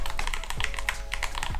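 Keys clack in a quick, uneven run of typing on a mechanical keyboard at a home office desk, crisp and close against a quiet background.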